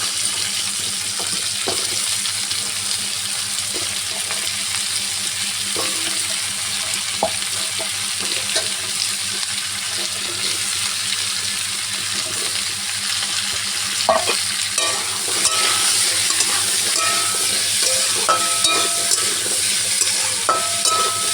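Potatoes fry and sizzle in a pan for an alu posto dish, with a steady hiss broken by scraping stir strokes and occasional clinks, close and continuous with no talking.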